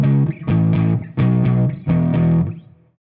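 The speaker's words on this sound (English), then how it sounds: "it's a power chord" Distorted electric guitar power chord, strummed loud and close in a short rhythmic pattern of repeated hits, then left to ring and fade out alone.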